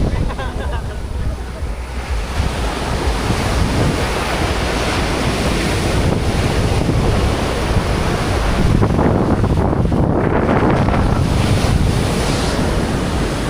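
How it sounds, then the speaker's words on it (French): Big ocean waves breaking on a beach at Playa del Carmen, a loud continuous roar of surf with heavy wind buffeting the microphone throughout, swelling in intensity near the end. "Vraiment très rare qu'on voit des grosses vagues comme ça"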